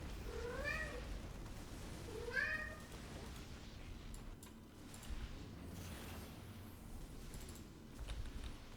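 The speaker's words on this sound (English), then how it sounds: "Cat, I already fed you." A cat meows twice near the start, two short rising calls a couple of seconds apart, then falls quiet over a low background hum.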